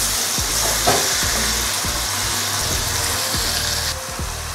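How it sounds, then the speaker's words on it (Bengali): Spice masala for beef brain bhuna fries on a medium flame with a loud, constant sizzle, while a spatula scrapes the pan in a steady repeating rhythm. "আর মশলাটাকে আমি ভালো করে কষাবো।"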